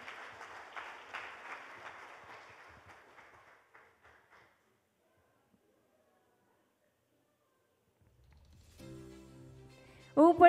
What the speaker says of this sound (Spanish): les damos un fuerte aplauso a nuestros hermosos niños